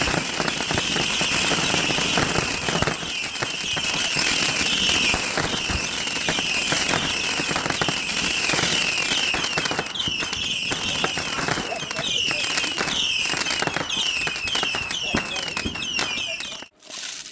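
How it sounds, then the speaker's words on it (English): A rapid barrage from a 750-shot Saturn missile firework crackles and pops continuously for many seconds, dense bursts overlapping, then stops abruptly near the end. "we followed that with a 750 shot Saturn missile"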